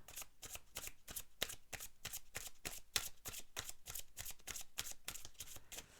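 A deck of oracle cards being shuffled close up, with soft, steady riffling flutters repeating evenly throughout and no talking.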